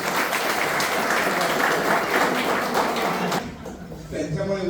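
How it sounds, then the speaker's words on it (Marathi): Loud, dense applause from an audience at an office send-off ceremony, sustained for about three seconds before dropping away as voices and a few scattered claps continue. "टाळ्यांचा गजरात"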